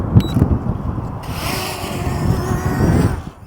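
Outdoor wind of about 10 to 15 mph with gusts up to 20 buffets the microphone in a continuous low rumble that rises and falls, with some mechanical noise mixed in and no voices.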